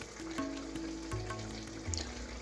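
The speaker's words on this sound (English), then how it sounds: "So it's time to fry it up" Brinjal slices coated in batter fry in hot oil. A soft, steady sizzle carries through, with a few faint clinks close by and no talking.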